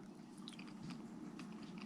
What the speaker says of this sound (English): Teeny tiny crunch from those itty bitty seeds.